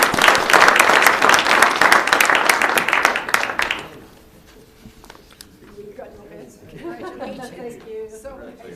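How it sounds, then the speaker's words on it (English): Loud, dense applause from the audience at a Toronto Crime Stoppers news conference for about four seconds, then dying away to quiet room noise as a voice begins speaking. "Another round of applause for these individuals."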